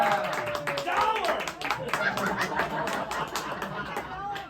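Live audience at a magic show clapping as a vote for a volunteer's dollar bill, with scattered laughter and chatter mixed in, steady and moderately loud throughout.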